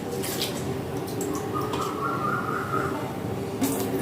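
Broken rice (khud) being washed in water in a home kitchen, soft sloshing and dripping with gentle squishy stirring, fairly quiet and close, with a few brief brighter splashes.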